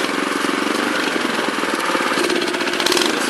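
A Honda FR600 tiller's small engine, running with the choke off, is throttled up toward mid-range and bogs down, giving a loud, rough, continuous chug with a knocking, uneven pulse close by and no voices.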